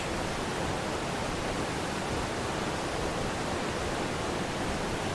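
Waterfall in the video game ARK Survival Ascended, a continuous, even rush of falling water that stays steady and fairly soft throughout, with no voices.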